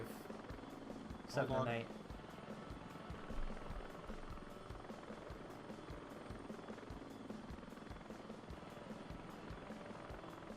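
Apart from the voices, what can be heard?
transport helicopter flying in a video game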